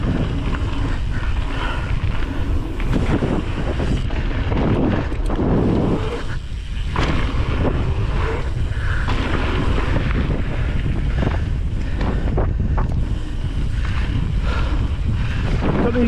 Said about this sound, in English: Horrible side wind on this one.